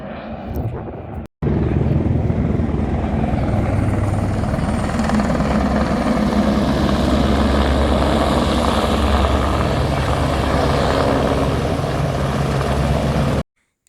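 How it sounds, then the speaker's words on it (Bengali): A helicopter flying toward Pahalgam on the route from Baltal makes a loud, steady roar with a deep rotor throb. It continues unbroken for about twelve seconds after a brief opening gap, with no voices over it. "এই যে হেলিকপ্টারটি আপনারা দেখছেন এই হেলিকপ্টারটি এখন পৌঁছাবে পেহেলগাম"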